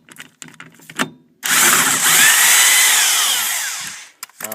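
A power tool whines loudly for about three seconds while removing a wheel from a 1993 Honda Civic, preceded by clinks and handling noises in a garage.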